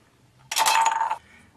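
Scissors slicing through an aluminium beer can, a single sharp metallic crunching cut with a bright ringing edge lasting well under a second, close and alone in quiet surroundings.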